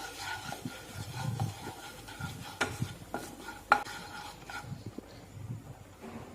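Wheat flour roasting in ghee in a kadai for ashoka halwa, with a soft steady hiss under repeated scraping strokes of a spoon and one sharper clink partway, close by with no talking.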